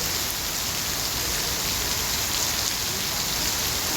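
A heavy monsoon downpour in the morning at Adalpura Kampa, a dense, even hiss of rain hammering surfaces, steady and unbroken throughout with no voices.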